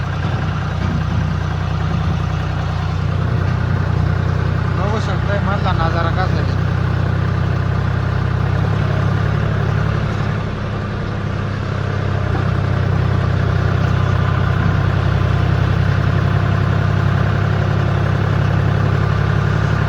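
A tractor engine runs steadily while driving along a track through a large forest, a loud continuous low drone with someone talking over it partway through.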